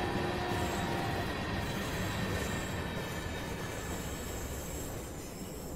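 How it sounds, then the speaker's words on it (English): A freight train in a video game rumbles steadily nearby with a dense, continuous roar and faint metallic squeals, no voices. "Freight train."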